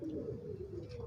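A white pigeon gives a soft, low coo, close by and faint, one short murmuring call that holds steady for about a second.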